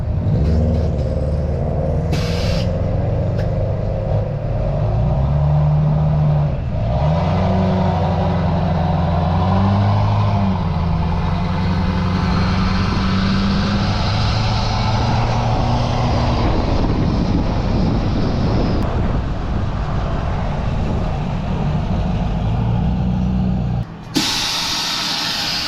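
A heavy truck engine drones steadily for a long stretch, its pitch stepping down and up through several gear changes, with rumble and road noise, then a sudden stop near the end.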